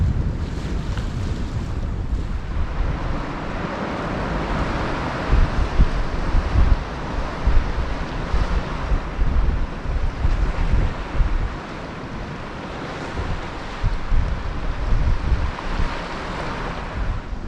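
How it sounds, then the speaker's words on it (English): Sea water crashes against rocks below a high fishing perch at Tenby in Pembrokeshire, a loud continuous roar of surf with swelling surges, heavy wind buffeting the microphone throughout. "The sound of that water crashing up against the rocks, it's impressive."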